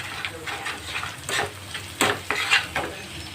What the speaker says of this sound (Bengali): এবার এর মধ্যে কালো জিরে দিয়ে দিচ্ছি।